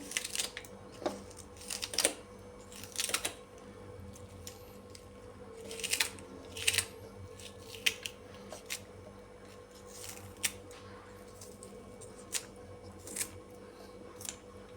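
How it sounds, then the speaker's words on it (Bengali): Onions being chopped into large pieces on a board, a series of sharp, irregular knife strikes close by over a quiet background, with no talking. "পেঁয়াজগুলি একটু বড় করে কাটছি।"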